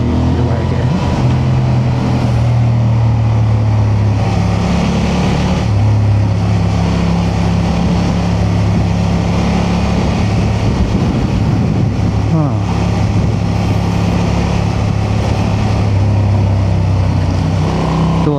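A 2025 Honda Transalp motorcycle engine hums steadily while riding on cruise control, a low constant drone with slight pitch shifts and wind rush, close and loud throughout.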